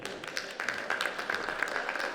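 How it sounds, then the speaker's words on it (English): An indoor audience at a community celebration gives the DJ a brief round of light, scattered clapping, fairly quiet, with a faint steady tone underneath. "Give him a hand of clap for the DJ."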